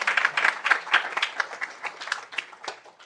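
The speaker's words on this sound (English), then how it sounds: "Another round of applause." An audience at a school board meeting claps in a brief round of applause that starts fairly full and gradually thins out over a few seconds.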